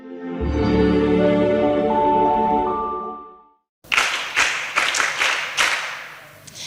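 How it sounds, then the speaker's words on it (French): At a children's Christmas event, a crowd applauds a children's entertainer. A sustained tonal passage fades into a brief silence, then bursts of close, uneven clapping follow in waves. "Applaudissez très fort pour vous, les amis."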